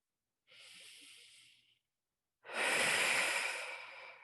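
Deep breathing during a floor exercise with heel lifts on a roller: a soft inhale followed, after a short pause, by a louder, longer exhale, both close and alone.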